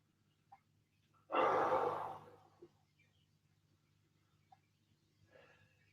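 A single loud, deep breath rushes out and fades over about a second during a stretching recovery workout at home, with near silence and faint small sounds around it.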